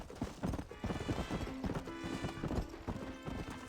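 Several horses in Red Dead Redemption clip-clop with quick hoofbeats and give a short whinny, fairly close with a slightly artificial, game-like character.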